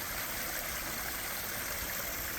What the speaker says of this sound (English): Here's a close-up of the top tier of the waterfall.